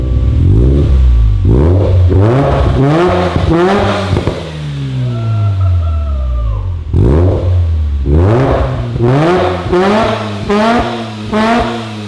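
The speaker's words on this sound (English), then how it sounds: "We're ready to give it some revs. I want to hear some good brap noises." A Mazda FC RX-7 rotary engine with a newly installed header revs hard again and again nearby, loud rising and falling bursts with a burbling idle between blips and a slow drawn-out revving pass in the middle.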